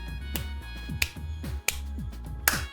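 Several sharp hand claps struck right beside the microphone, loud and isolated, spaced roughly half a second to a second apart over a low steady background hum.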